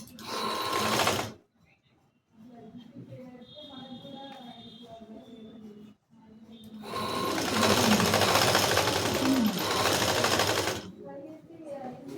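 A sewing machine stitching the back panel of a blouse with back buttons, running in bursts of loud close whirring separated by brief pauses, with a quieter mechanical hum between runs.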